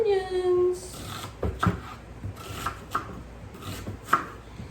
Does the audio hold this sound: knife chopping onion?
yes